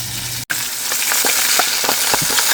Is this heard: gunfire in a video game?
no